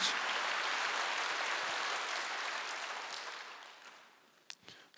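A church congregation at a Wednesday service claps together after the pastor's sermon. The dense applause is even at first, then fades over a few seconds, ending with a few isolated claps.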